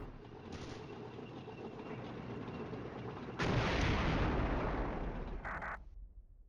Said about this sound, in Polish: Kładziemy teraz miny z pomocą artylerii. Artyleria sobie tutaj radzi bez problemu.